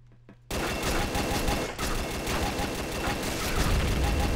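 Turret gunfire in the Combat Arms Reloaded shooter game, a sudden dense burst of rapid automatic shots that starts after a brief quiet and keeps hammering loud and continuous to the end.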